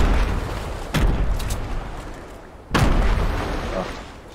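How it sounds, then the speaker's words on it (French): Two heavy grenade blasts burst in a video game, each a sharp loud boom followed by a decaying rumble, about two seconds apart. "je balance mes grenades"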